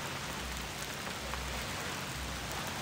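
Steady outdoor rain falls as a dense, even hiss of drops hitting surfaces, constant and fairly loud with no voices, during setup of a fishing kayak.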